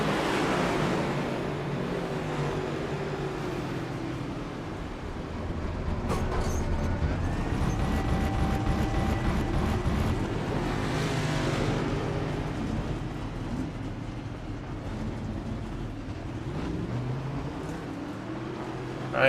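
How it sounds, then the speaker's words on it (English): Race cars at Indianapolis in the iRacing sim roar in a steady engine drone that swells and fades as a large multi-car wreck unfolds near turn two, with no voices over it. "we got a huge wreck off of 2. A lot of cars wrecked in this one."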